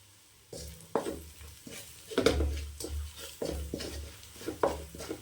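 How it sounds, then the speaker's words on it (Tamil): Curry masala powder, coriander, turmeric and chili powder are sautéed in oil for mutton varuval, with a soft sizzle and repeated stirring scrapes of a spoon against the pan, fairly quiet and close. "இந்த எண்ணெயிலே நல்லா வதக்கி விட்டுக்கலாம்"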